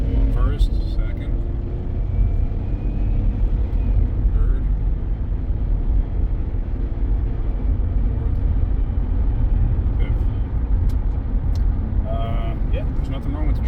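A car on a test drive up the road, its transmission in sound order, gives a steady low engine rumble that runs throughout, with people talking over it.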